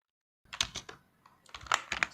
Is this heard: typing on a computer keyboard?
yes